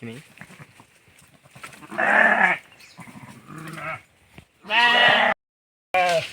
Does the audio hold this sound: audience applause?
no